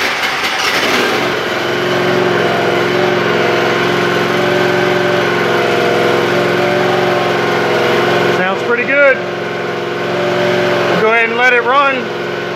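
A John Deere Z540M zero-turn mower engine runs at a steady, loud idle close by after starting. Toward the end, a person talks over the continuous drone.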